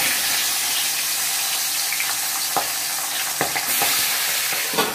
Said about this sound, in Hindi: तेल गर्म हो गई है, अब इसमें हम लोग मछली डाल देंगे।